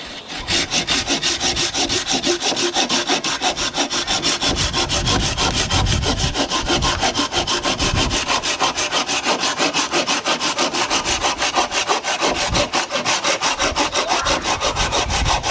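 A hand saw cuts through a wooden branch while a bushcraft pot hanger is being made, a fast, steady rasping stroke rhythm that runs close and loud throughout, no talking.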